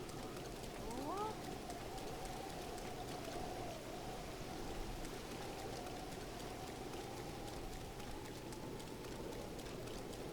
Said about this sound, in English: it's continuous rain in the Zora area